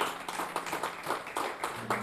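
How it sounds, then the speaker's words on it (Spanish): Church congregation clapping in praise during a sermon, a modest crowd producing uneven, rhythmic bursts of handclaps that rise and fall over a couple of seconds, fairly close and without speech. "¿Cuánto pueden dar un fuerte aplauso a esa palabra fiel y digna?"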